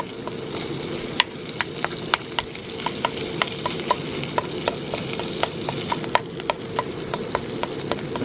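Beef and rice fry in olive oil in a pan while a spoon scrapes and breaks them up, giving a steady sizzle with regular sharp clicks and taps of the utensil against the pan, close and continuous.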